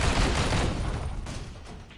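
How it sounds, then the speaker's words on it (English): Dense, rapid gunfire from shooting barrels in Marvel Heroes Omega, a loud continuous burst of overlapping shots and booms lasting about two seconds and tapering slightly at the end. "Never happier than when I'm shooting barrels."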